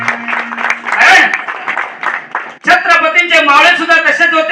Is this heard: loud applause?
yes